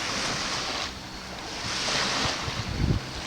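Surf rolls onto a sunny bay beach in Baja California, a steady broad wash of breaking waves with gusty wind buffeting the microphone and a swell of louder water near the end.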